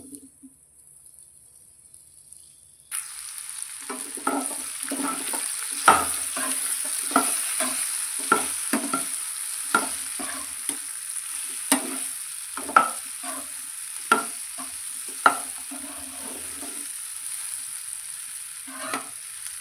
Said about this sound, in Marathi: आता ह्या तेलामध्ये आपण भेंडी शॅलो फ्राय करून घेऊया.